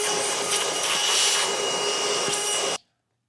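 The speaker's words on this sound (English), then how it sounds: "Now I'll use a vacuum to pick up all this metal swarf that we left behind" A vacuum cleaner picks up metal swarf around a roof rack installation on a 2018 Honda Odyssey, roaring loudly and steadily before cutting off abruptly into silence near the end.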